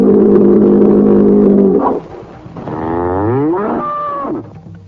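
Frightened cows in a pasture moo loudly and close by, one long sustained low bellow followed by a rising, wavering second call.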